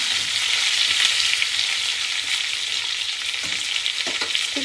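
A close, steady sizzle of potatoes frying in a pan continues alone, with a few light stirring knocks near the end.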